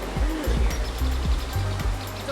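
Oak Creek near Sedona, Arizona rushing steadily over rocks, a continuous broadband wash of flowing water that stays loud and close throughout, with a few faint low thumps underneath.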